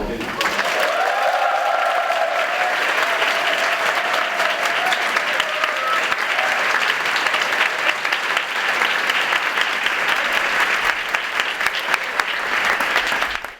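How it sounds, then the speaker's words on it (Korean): Big applause welcomes new Catholic seminary students, sustained dense clapping from a sizable group, loud and steady throughout, with a faint tone gliding beneath it early on. "신입생 학생님들이 큰 박수로 맞이해주세요."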